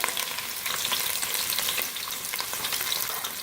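Finely chopped medium onions fry in hot oil, giving a steady, dense, close sizzle that holds at an even loudness throughout, with faint crackles and spits scattered through it.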